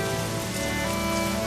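Rain falls in a forest as a storybook sound effect, a dense, steady patter blended with soft tonal music, brief and fairly loud, with no voices.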